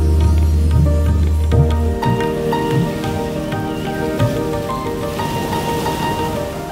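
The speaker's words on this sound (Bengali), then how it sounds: "রথযাত্রার দিন থেকে বৃষ্টি হচ্ছে, আজকেও বৃষ্টি হচ্ছে, পুরো মেঘলা ওয়েদার" Rain falls at a seaside hotel in Puri under cloudy monsoon weather, a steady close patter on surfaces, with a low rumble in the first two seconds and scattered drips after that.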